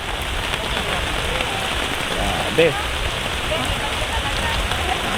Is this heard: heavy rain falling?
yes